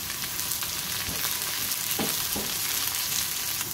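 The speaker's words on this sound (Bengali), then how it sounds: "পেঁয়াজটা ভাজা হয়ে গেছে" Onions fry in a pan for a spicy loitta dried-fish recipe, giving a steady close hiss and sizzle with a few light stirring scrapes.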